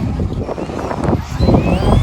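Gusty wind blows outdoors at a picnic, buffeting the microphone with a loud, continuous low rumble that swells and dips throughout, with no voices.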